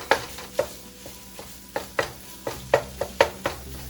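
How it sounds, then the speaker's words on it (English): Cooked meat chopped finely in a pan for quiche: crisp, close knocks of a utensil striking the pan at a loose, roughly half-second rhythm, with light scraping between hits. "we just want to chop it up real fine, because every bite you taste into the quiche, you want some of that meat"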